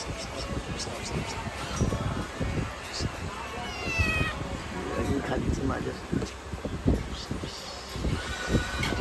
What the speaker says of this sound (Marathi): मांजर आहे